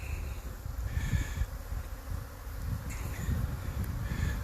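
Honeybees buzzing around hives at an apiary of about twenty-two colonies, a dense steady insect drone close by with individual bees flying past now and then.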